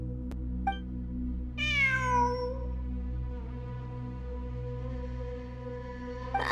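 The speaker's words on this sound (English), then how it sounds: "It really is a cat." A cat meows in a video game set among ruins: one clear, falling meow stands out over a steady low electronic hum, with a few fainter mews around it and no talk.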